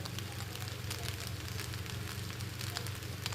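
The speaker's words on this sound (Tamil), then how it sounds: "லைட்டாக சோயா சாஸ் ஊற்றிக்கலாம்" A veg fried rice pan sizzles hard and steadily with dense crackling and spitting as soy sauce is poured in, close and continuous throughout.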